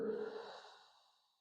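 A single slow exhale during a guided pelvic floor breathing exercise for postpartum recovery: soft, breathy air released close to the mic, starting fuller and gradually fading away over about a second and a half, with no talking.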